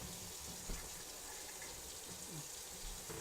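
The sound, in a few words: water running from a sink tap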